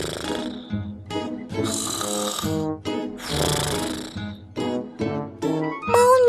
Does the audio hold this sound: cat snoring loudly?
yes